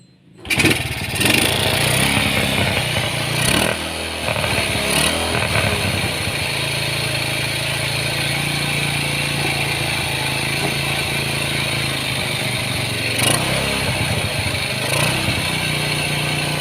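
A Honda Supra X 125 motorcycle that is hard to start and sputters under throttle is kicked over; the engine catches almost at once and then runs loud and steady nearby with a rough, clattering idle.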